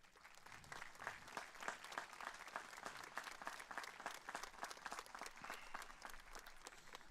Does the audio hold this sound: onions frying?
no